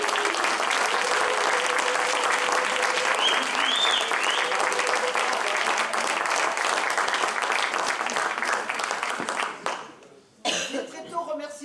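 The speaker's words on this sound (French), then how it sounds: "On vous applaudit." A theatre audience applauds the organisers at an amateur play, a dense sustained ovation with scattered coughs, thinning and breaking off near the end as a voice briefly cuts in.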